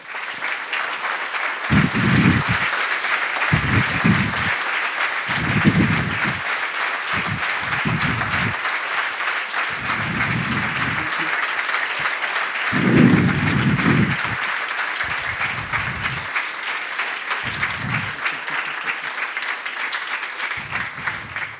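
A conference audience in Geneva applauds steadily to welcome two sailors onto the stage, a long, full wash of clapping with a few louder swells and scattered cheers.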